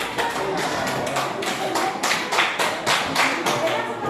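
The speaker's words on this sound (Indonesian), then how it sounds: "Tepuk tangan untuk kelompok 4." Applause and clapping for a student group called up to present in a classroom or hall, a steady patter of hands with some individual claps standing out, fairly close and continuous.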